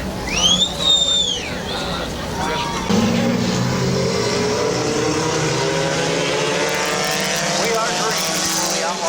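Compact division race cars at Midvale Speedway roar past in a steady, loud engine drone, with a brief high whine early on and crowd or announcer babble mixed in.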